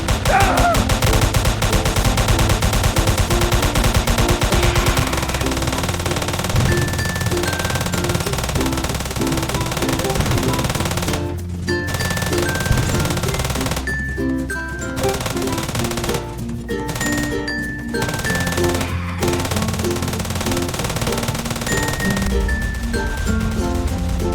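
Rapid video-game gunfire in Roblox crackles in dense bursts over a continuous loud music and effects bed, repeating throughout with brief pauses, close and busy with no voice.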